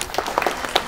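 Wedding guests applauding during a toast at a reception, a short burst of dense clapping from a crowd, moderately loud and close, with no talk over it.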